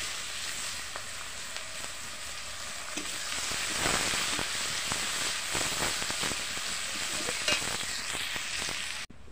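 Onions fry in hot oil with bay leaves, dried chilli, cloves, cardamom and cinnamon for a chicken curry, giving a steady, close sizzle broken by sharp scraping stirs throughout.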